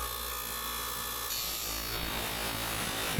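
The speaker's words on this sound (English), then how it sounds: "I'm really making sure that I have the exact spot on the cutting wheel" Cutting wheel grinding through a golf club shaft, a steady, loud, continuous abrasive whine that shifts pitch slightly partway through, close up and alone with no talking.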